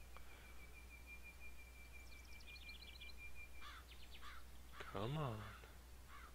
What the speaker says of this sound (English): Listen to the nature, those birds.